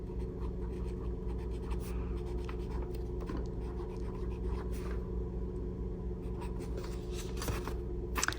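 Pelican M1000 fountain pen in Renaissance Brown scratching across MUJI notebook paper, a steady close scritching of nib on paper with light rhythmic strokes and low room rumble beneath, no talking.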